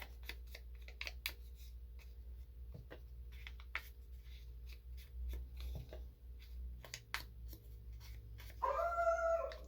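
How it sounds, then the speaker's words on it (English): Indoors during paper crafting, a dog gives a short bark near the end, heard after quiet tapping and rustling on a desk. "Oh, excuse my dog."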